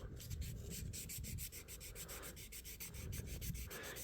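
Quiet, rhythmic rubbing of 1000 grit sandpaper across a knife blade, with rapid back-and-forth strokes repeating evenly, close but faint.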